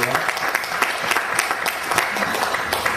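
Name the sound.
audience applause at a show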